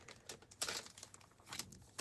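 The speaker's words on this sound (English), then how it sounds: "I don't like all that crinkling with the paper." Paper packaging crinkles and rustles quietly as it is opened, soft close crackles with a few brighter bursts.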